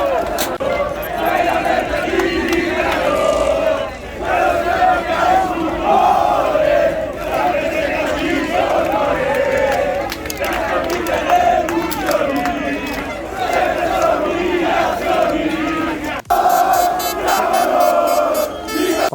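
A packed crowd of football fans at the Sassuolo vs Milan match roars and chants together, a loud, continuous wall of shouting voices with nearby talk and babble mixed in.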